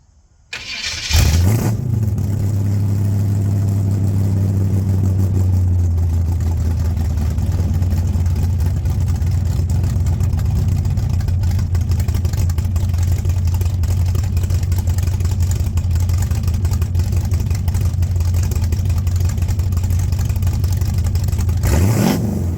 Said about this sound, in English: Let's see if this thing sounds any different with these tailpipes on here.